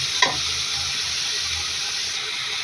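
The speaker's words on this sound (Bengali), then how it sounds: "নেড়ে চেড়ে খুব ভালোভাবে কষিয়ে নেব।" Vegetables and dal being stir-fried with spices in a pan, a steady broad hiss of frying throughout with one brief scrape of stirring near the start, no talk.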